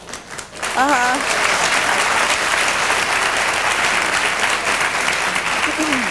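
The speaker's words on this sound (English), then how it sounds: "You all are clapping" Studio audience at a talk show breaking into loud, sustained applause that swells after a short moment and carries on steadily, with a brief voice cutting through early on.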